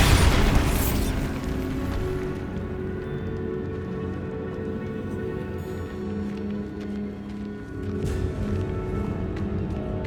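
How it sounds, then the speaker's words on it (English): A Bombarda spell explosion in the video game Hogwarts Legacy, with a loud, deep booming blast at the start followed by a long rumbling decay and scattered debris-like crackles. "Bombarda!"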